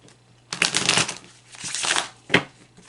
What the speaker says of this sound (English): that sound you hear is me shuffling the cards one more time.